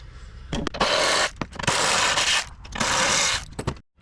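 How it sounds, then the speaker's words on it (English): A swivel ratchet clicks in three close bursts of rapid ratcheting, separated by short pauses and small clunks, while it works on a 2014-2018 Chevy 1500 A/C condenser in a tight spot. "I'll probably use maybe a swivel ratchet and it'll work pretty good"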